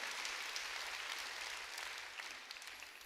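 A congregation applauds during a Korean church sermon, a soft, even patter of clapping that sounds distant and faint, holding steadily with no voices over it.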